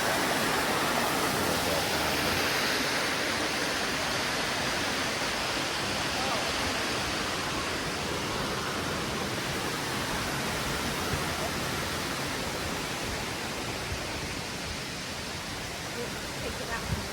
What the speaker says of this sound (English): Come on, step up to the waterfall.